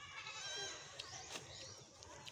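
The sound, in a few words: goat bleating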